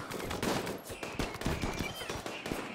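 Colonists firing guns in the RimWorld video game, a quick crackle of overlapping shots and short bursts throughout, moderately loud and fairly steady.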